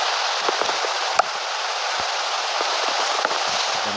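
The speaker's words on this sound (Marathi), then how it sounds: "पाऊस पडायला लागला." Steady rain in Minecraft hisses evenly throughout, with a few small crackling taps and no voices.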